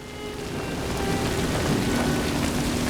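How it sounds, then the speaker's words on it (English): Steady dense crackling hiss of a fire in the PC game Diablo III, continuous and fairly loud, resembling rainfall, with no voices. "I love the sound of the fire. Kind of sounds like rain."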